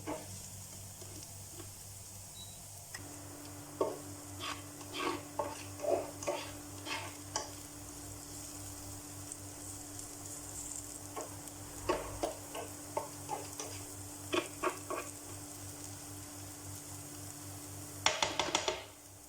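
Garlic and onion frying in butter in a pan make a soft, steady sizzle, broken by repeated scraping and clicking strokes of stirring that grow busier toward the end.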